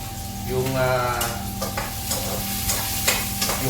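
Onions sautéing in a hot pan for Bicolano pinakbet give a steady close sizzle and frying crackle, with scraping stir strokes running through the whole stretch.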